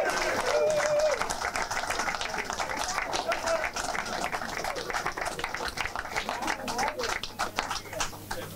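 Warm applause from a football crowd at a VfL Osnabrück versus TSV 1860 München match gathering, steady dense clapping throughout with voices murmuring underneath.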